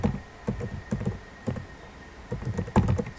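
Typing on a computer keyboard while entering employee details in payroll software, a steady stream of close, crisp key clicks in irregular bursts with a brief pause midway, no voices.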